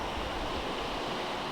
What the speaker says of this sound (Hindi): अभी हम लोग हैं यहाँ पे बीच, ओम बीच ख़त्म हो जाता है